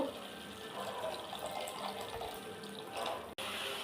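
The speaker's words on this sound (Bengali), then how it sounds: "একটু জল দেব।" Water poured steadily into a pan of rohu fish curry masala, a continuous soft splashing stream heard close and alone, cutting off abruptly near the end.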